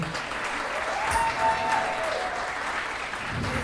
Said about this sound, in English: Please give Kayla a round of applause, everybody.